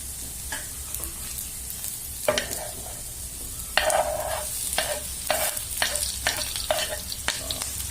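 Chopped bitter gourd frying in a pan with fried onions, a steady close sizzle with repeated scraping stirs and clatter of the spatula against the pan, no talking.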